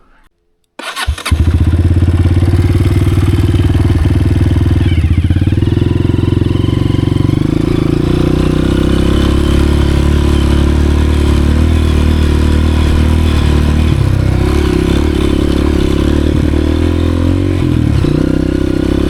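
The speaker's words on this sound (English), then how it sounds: "This bike is carbureted. I don't know if you could hear, but it like bogs a little." A carbureted Honda CRF 230F dirt bike on a rocky mountain trail starts up and then runs loudly and continuously close by, its engine note shifting slightly as the throttle varies, with no talking.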